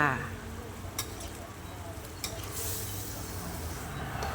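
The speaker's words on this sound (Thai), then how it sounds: "ผัดไก่ให้สุกก่อน นี่นะคะ เราก็เทมะเขือใส่ลงไปเลยจ้า ทั้งมะเขือเปาะ แล้วก็มะเขือพวงนะคะ ใส่พร้อมกันเลยค่ะ" Chicken stir-frying in a pan with Thai eggplants and pea eggplants tossed in, a steady soft sizzle running throughout, with a couple of sharp utensil scrapes or clinks against the pan.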